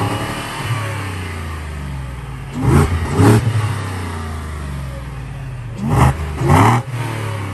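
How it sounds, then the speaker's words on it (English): A Ford F-150 with its bone-stock factory exhaust revs up twice in pairs of short blips over a steady idle rumble, loud and close, with no talking. "Bone stock factory exhaust. It sounds pretty mean in the high R's."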